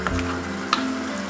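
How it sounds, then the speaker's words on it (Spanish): Potatoes starting to boil in a pot: a soft, faint bubbling sizzle with a couple of small pops, steady and close. "Las patatas ya se ve que están empezando a hervir"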